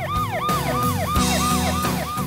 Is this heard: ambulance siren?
yes